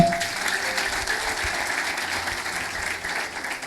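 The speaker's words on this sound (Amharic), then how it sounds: "አጨብጭቡ ለጌታ።" A church congregation claps together in sustained, dense applause that stays fairly loud and even, then eases slightly toward the end, with no talking over it.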